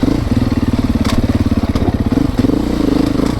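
A 2024 Beta 390 RS motorcycle engine runs at full throttle, a loud, close, rapid pulsing drone with a steady beat and occasional rattling clatter.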